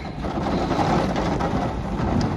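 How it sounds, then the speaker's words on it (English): Steady rain falls outside as a continuous, even hiss of drops with a low rumbling undertone, with no voices. "Raining out."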